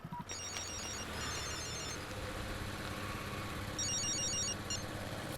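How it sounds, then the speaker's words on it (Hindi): A telephone rings in repeated short trilling bursts, fairly faint over a steady low engine-like rumble, with no talking. "ए सुरेश, कोर्ट से फोन आया है यार"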